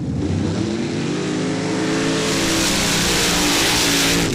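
Mud truck race engine roaring at full revs during a mud drag race in Laporte, Indiana, a loud, dense, sustained bellow with steadily climbing pitch, no talk over it.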